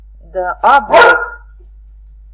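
A pet dog barks indoors in a few short, loud bursts close by, with someone talking just before and after.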